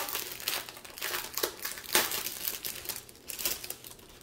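Plastic packets of diamond painting diamonds opened up close, a run of crisp crinkling and rustling handled in quick irregular bursts, fairly quiet with no talk.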